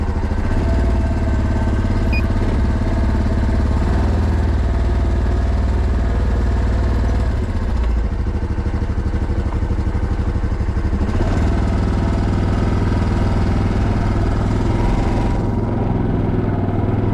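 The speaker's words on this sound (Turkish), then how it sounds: "Arkadaşlar şimdi Ahmet abinin ATV'ye biniyorum" An ATV engine idles steadily up close, a continuous low mechanical rumble with slight variations and no talking.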